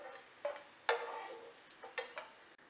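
Raisins and other ingredients roasting in a pan for Satyanarayana prasadam, with a few scraping stirs and soft sizzling bursts heard close up, quiet and without speech.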